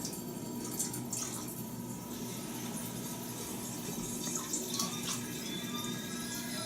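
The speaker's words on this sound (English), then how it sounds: "we're pouring the liquid that we've already filtered through the coffee filter" Liquid draining and dripping through an unbleached natural coffee filter in a kitchen, a steady close trickle with scattered drips that runs evenly throughout.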